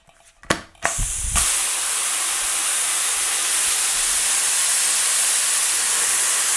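Air spray gun held open on a compressor line, giving a loud, steady broadband hiss that starts after a couple of short bursts and runs unbroken to the end.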